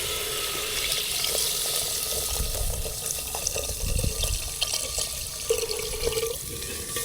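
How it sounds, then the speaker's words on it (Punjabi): Running water splashes and gurgles into a cooking pot of fried salt and chili, a steady, close pouring sound with faint drips and clinks. "ਹੁਣ ਆਪਣਾ ਨੂਨ ਮਿਰਚ ਭੁੱਜ ਗਿਆ ਤੇ ਪਾਣੀ ਪਾ ਦੇਵਾਂਗੇ"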